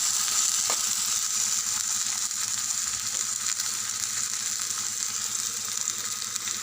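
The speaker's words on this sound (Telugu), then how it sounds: "ఇప్పుడు ఒక 3 టమాటాలు సన్నగా కట్ చేసుకొని ఇలా వేసి బాగా కలపాలి." Chopped tomatoes are stirred into onions frying in a pan for an egg curry, giving a steady, close sizzle with faint scraping and clinking under it, and no voices.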